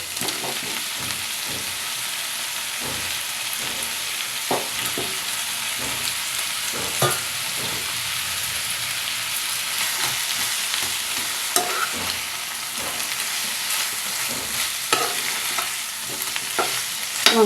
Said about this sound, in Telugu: రొయ్యలు బాగా మగ్గాయి. ఇప్పుడు దీనిలో వంకాయ ముక్కలు వేసి మగ్గించుకుందాం.